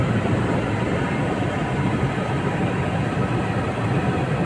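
A train rolls past on the railway tracks, a dense, loud, continuous rumble and roar that holds steady for the whole stretch with no voices.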